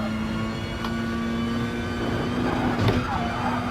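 Race car engine in a GT Sport sim racing video game, a steady droning whine that rises slightly in pitch as the car accelerates, loud and continuous.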